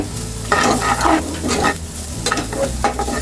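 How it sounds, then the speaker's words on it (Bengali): Vegetable fried rice is stirred and tossed in a hot pan. Rhythmic scraping and shuffling strokes sit over a bright, close sizzle, with sharper knocks toward the end. "এখন আমি নেড়ে চেড়ে"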